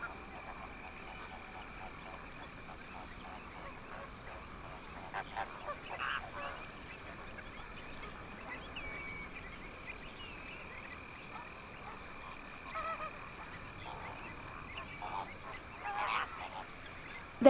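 Flamingos calling in the wild, a faint, distant flock of honking, goose-like calls scattered over a soft outdoor background, with no voices.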